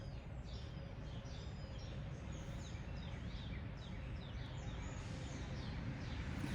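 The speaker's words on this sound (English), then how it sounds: "every time I hear birds chirping" Birds chirping and tweeting outdoors in springtime, many short high calls scattered over a steady low background rumble, moderately distant and continuous with no talk.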